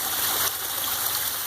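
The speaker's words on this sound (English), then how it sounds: "We're going to get a close-up of the waterfall." Water from a backyard pond waterfall pours steadily, a close, continuous hissing splash with no pauses.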